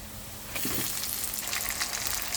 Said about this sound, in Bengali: এরপরে আমি ম্যারিনেট করা যে মাংসটা ছিল সেটা আবার আমি দিয়ে দেব।